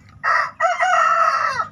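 A rooster crows among free-range chickens, one loud, close cock-a-doodle-doo with a short opening note followed by a long drawn-out call that falls at the end, heard alone over a quiet farmyard background.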